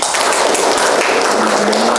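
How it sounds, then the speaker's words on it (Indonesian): Students in a classroom clap together in a dense, loud, steady round of applause with a faint tone running beneath it near the end. "Tepuk tangan untuk kita semua"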